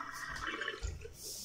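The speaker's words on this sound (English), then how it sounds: "Pull the plug out, let the dirty water go." Dirty water drains from a bath or sink plug, a continuous gurgling, trickling wash with a deeper glug partway through, fairly close and steady throughout.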